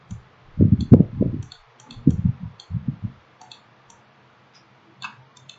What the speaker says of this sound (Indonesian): klik mouse sebelah kanan, lalu copy